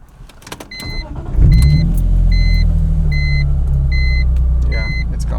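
A BMW E46 M3 cranks and starts, then settles into a steady, loud close idle with a low rumbling drone, while several short electronic chimes repeat over it.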